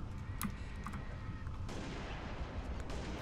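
Gunfire in the video game Halo Reach: a few sharp shot transients early, then a dense, noisy stretch of sustained firing and explosive clatter, loud and busy throughout the clip.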